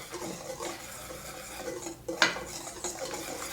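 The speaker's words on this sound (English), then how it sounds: "we're just gonna whisk together all of the dry ingredients until they're well combined" Dry ingredients for gluten-free banana bread, including cinnamon, whisked together in a bowl, with a steady scraping, clinking stir running throughout and a sharper clink of the whisk against the bowl partway through.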